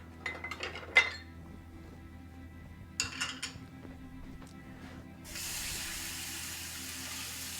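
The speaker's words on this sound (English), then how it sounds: "Give that a quick rinse to clean it off." Running tap water hisses steadily as a skillet is rinsed, following a few clinks of metal and dishes before the spray starts and continues to the end.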